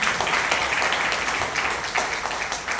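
Steady applause from an audience fills the space, a dense and continuous wash of clapping hands that holds at an even level throughout with no voices rising above it.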